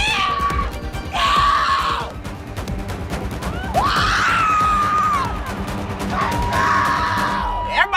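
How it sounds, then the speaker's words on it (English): A man outdoors lets out several long, loud screams of frustration at the season, each a sustained raw yell separated by short breaths over steady background noise. "I was out there screaming my frustration at the season out"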